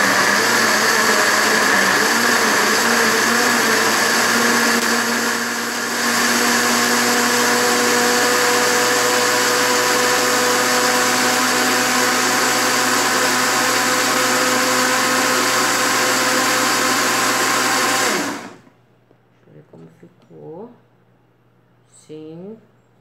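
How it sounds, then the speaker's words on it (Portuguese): A kitchen blender runs loud and steady for about eighteen seconds, blending a beetroot and coconut soap mixture in its jar, then cuts off and someone speaks briefly. "Vou bater. Vocês reparem que aqui é meu liquidificador"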